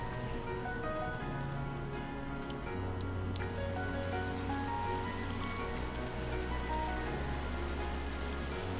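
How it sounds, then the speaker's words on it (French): Steady rain pours continuously in the Trails of Cold Steel video game, a dense, even hiss of falling water with no voices, holding at a constant level throughout. "une pluie incessante tombait sur Trista"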